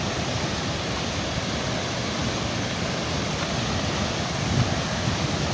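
The Tirto Kemanten waterfall on the slopes of Mount Raung near Banyuwangi, East Java, running with a fairly high flow, roars as a steady, loud, broad rush of falling water with no pauses.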